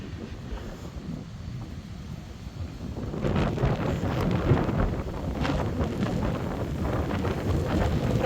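Steady wind gusting over an open prairie trail at Buffalo River State Park, a broad continuous rush that swells louder after the first few seconds and buffets the microphone, with no voices.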